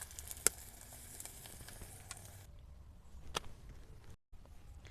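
Egg paratha frying in a little oil in a pan, a steady soft sizzle with a few sharper crackles and utensil taps, fairly quiet and close, with a brief dropout near the end.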